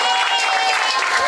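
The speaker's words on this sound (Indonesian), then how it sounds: "Tepuk tangan." Applause and cheering rise from a crowd of participants at an English and character camp held at a villa in Cengkareng, dense and loud, in one brief continuous burst.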